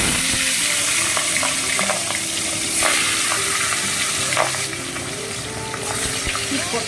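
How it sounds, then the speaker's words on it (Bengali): Fish rubbed with salt and turmeric fry in hot oil in a kadai, giving a steady, loud sizzle and crackle throughout with faint stirring and no talk. "মাছগুলো একে একে ভেজে নেব।"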